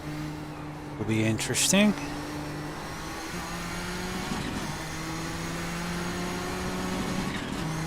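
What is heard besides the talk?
Audi race car engines in iRacing video game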